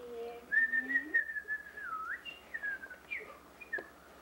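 Someone whistles a short wavering tune, fairly soft, with a few sliding notes and brief pauses.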